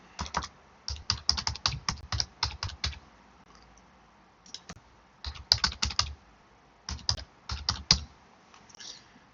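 Bursts of typing on a computer keyboard while a password is entered during an Ubuntu install in VirtualBox, with quick clusters of close, crisp key clicks separated by short pauses.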